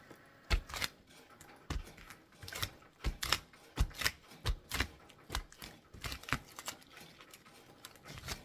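Lint roller paper pressed onto the back of a rhinestone template and peeled away to lift off the dots, giving a rapid series of sharp, sticky crackling snaps and ticks, close and fairly loud, with no talking.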